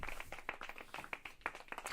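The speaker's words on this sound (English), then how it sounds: "Clap it up for the king." Scattered hand claps ring out in a loose, uneven rhythm, several sharp distinct claps over a couple of seconds, fairly quiet and close, with no talking.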